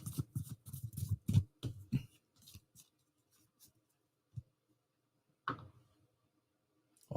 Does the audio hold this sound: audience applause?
no